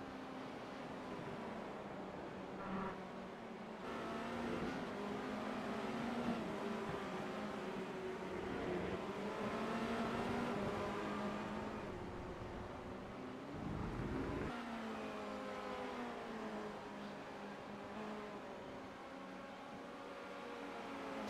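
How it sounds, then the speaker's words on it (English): Formula Renault 2.0 race cars circle under a safety car in the iRacing game, a steady, moderate drone of engine whine that rises and falls gently over about twenty seconds, with no talk. "Now the field is going to line up behind the safety car."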